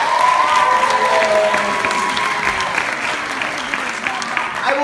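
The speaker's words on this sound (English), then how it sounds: "Big round of applause for our announcer this evening" An audience at a high school improv comedy match gives the evening's announcer a big round of applause, steady dense clapping that holds for the whole stretch with a voice faintly audible beneath.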